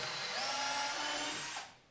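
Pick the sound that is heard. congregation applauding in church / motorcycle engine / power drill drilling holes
power drill drilling holes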